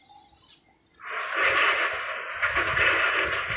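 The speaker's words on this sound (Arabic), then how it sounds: "صوت آلات البناء وكده." Construction machinery sound effect: a steady, loud grinding and rumbling roar kicks in after a brief quiet start and holds at full strength, with a thin high whine riding above, and no voices.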